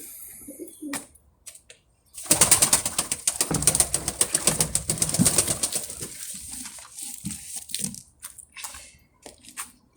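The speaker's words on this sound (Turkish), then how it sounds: "Kolimiz var. içinde kuşlarımız var." Pigeons coo and flutter nearby inside a box, a dense burst of cooing and scuffling for several seconds, then quieter scattered calls and rustling.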